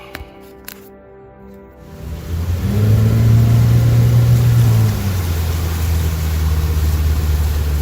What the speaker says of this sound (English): The motor starts up fine, but as soon as I throttle up,